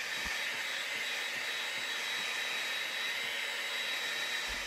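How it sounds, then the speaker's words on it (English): A heat gun runs continuously at close range while heat-setting airbrushed paint on a sunfish swimbait. It makes a loud, steady blowing roar like a hair dryer, with a couple of faint knocks and no talking. "it's getting really wet, so I'm gonna heat set it real quick"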